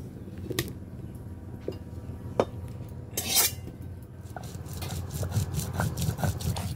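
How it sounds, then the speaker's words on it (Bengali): Cumin, ginger and garlic cloves being ground into a spice paste, heard as irregular scraping and knocking strokes of stone or utensil, fairly close, with no talk. "এখানে দেখুন জিরে, আদা আর কয়েক টুকরো রসুন নিয়েছি, এটাকে ভালো করে বেটে নেব"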